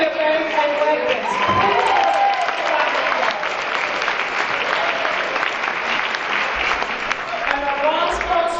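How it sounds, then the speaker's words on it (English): An audience at an awards ceremony applauds the sponsors with loud, sustained clapping and some cheering, while a voice speaks over the crowd noise at the start and near the end. "we're going to have a round of applause after"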